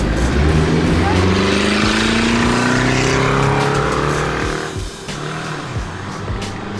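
Loud street traffic in St. Pete, Florida, dominated by a car with a roaring, rumbling exhaust that accelerates close by, then eases off as the noise drops to a lower background hum.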